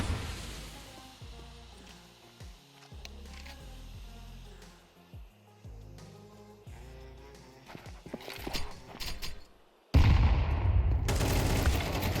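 Gunfire in Counter-Strike 2 bursts as sharp, rapid shots in scattered clusters, followed by a sudden louder rush of continuous noise near the end.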